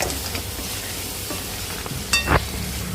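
Creek crabs (kurli) sauté with onions in a pan for a village-style crab dish, giving a steady close sizzle with a brief stirring scrape and clink.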